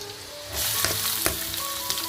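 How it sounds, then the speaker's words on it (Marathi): Onion is dropped into hot oil with chillies already fried in it, and a sudden loud sizzle bursts up and stays steady with a few crisp spatters and stirring clicks. "मिरच्या चांगल्या तळून घेतल्यात तेलामध्ये आणि आता कांदा घालते"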